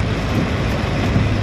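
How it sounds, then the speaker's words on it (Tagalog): Dense, steady hiss of heavy rain pours down on an expressway without letup, a broad rushing wash with a low rumble underneath. "Grabe talaga lakas ng ulan."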